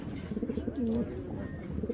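Racing pigeons coo close by, soft throaty rolling calls repeating over a murmuring background.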